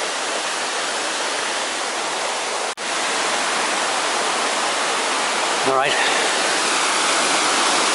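A river swollen after heavy rain near Aber Falls rushes in a loud, steady broadband roar, with a brief dropout and someone speaking briefly over it.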